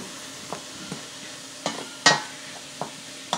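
A spoon stirs seasoned stuffed-pepper filling with garlic in a pan, giving a few separate scrapes and knocks over a faint, low sizzle. The sound is close and quiet, and no one talks.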